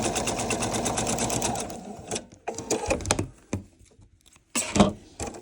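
A sewing machine stitching quilt star pieces runs in a steady loud whirring burst, then stops and starts in short clattering spurts with pauses between, close up and with no voices.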